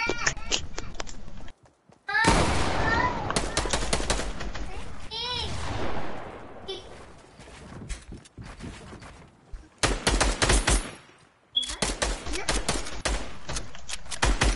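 Rapid bursts of video game gunfire crackle loudly in several clusters, with dense volleys at the start and again near the end, mixed with other game effects.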